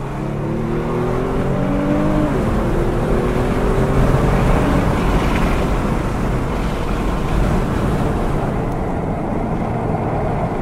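A 2018 Kia Stinger in sport mode with paddle shifting, accelerating hard on the Calabogie Motorsports Park race track: a steady, loud engine roar rising in pitch, heavily buffeted by wind noise, with no talking.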